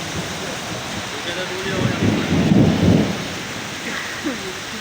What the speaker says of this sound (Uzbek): O'sha katta do'l muz yog'yapti.